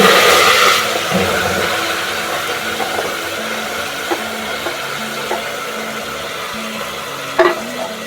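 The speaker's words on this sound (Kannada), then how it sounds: "ಲವಂಗ ಒಂದೈದು ಹಾಕೋಣ ಇದು ಸಿಡಿಯುತ್ತೆ ಸ್ವಲ್ಪ ದೂರ ಇರಬೇಕು" Cloves and ground masala frying in oil and ghee for a vegetable pulao, a steady close sizzle with occasional spatters and stirring clinks.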